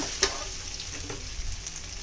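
Diced potatoes fry in a pan for sabudana khichdi, giving a continuous close sizzle with a brief clack of a ladle stirring near the start.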